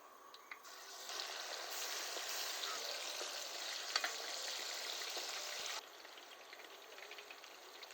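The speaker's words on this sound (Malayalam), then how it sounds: "ഒരു അഞ്ചാറ് ട്രിപ്പായിട്ടേ വറുത്തെടുക്കാൻ പറ്റത്തുള്ളൂ" Restaurant-style chicken 65 deep-fries in hot oil for the final batch, giving a continuous bubbling sizzle that grows louder and then drops to a softer hiss near the end.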